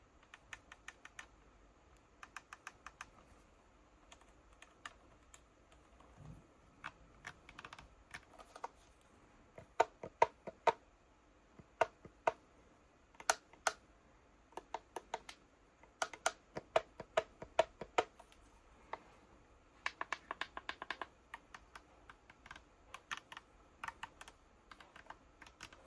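Buttons on a MOZA KS Pro sim racing wheel are pressed one after another, giving sharp, close plastic clicks in irregular bursts and quick runs, some denser than others, over a quiet background with no talking.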